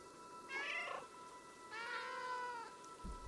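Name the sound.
cat meowing in Stray video game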